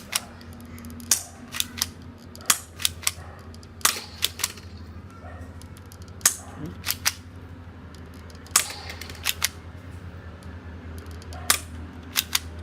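A toy Glock gel ball blaster fires a series of sharp, snappy cracks at irregular intervals, each one close and distinct over quiet background hum.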